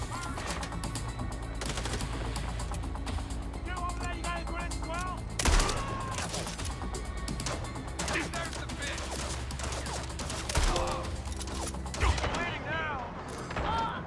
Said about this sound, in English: Are you seeing how these guys are reacting to direct shotgun fire?